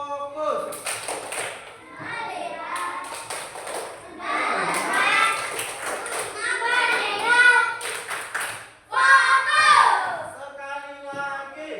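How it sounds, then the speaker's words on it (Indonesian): Classroom children perform a rhythmic focus clap in bursts of patterned claps, mixed with a teacher's voice and children chanting along, loud and close. "Coba tepuk fokus."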